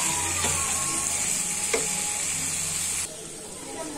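Paneer pieces pan-roast in a hot pan with a bright, continuous sizzle and hiss, two sharp clacks marking flips, the sizzle dropping abruptly near the end.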